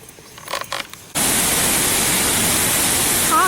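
Harvalem waterfall in North Goa roars in a dense, loud, steady rush of falling water that cuts in abruptly after a quieter opening with faint background sounds.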